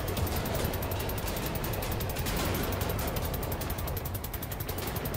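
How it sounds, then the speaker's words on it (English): A laser turret machine gun fires nonstop in Wolfenstein: The New Order, a loud, rapid stream of closely spaced shots with a mechanical whir, continuous and without speech. "use this laser turret machine gun to kill the last guy"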